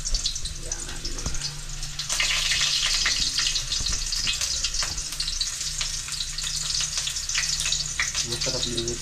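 Okra sizzles and crackles steadily as it fries in a pan for breakfast, a close, continuous hiss that swells louder partway through, with brief knocks and stirring sounds.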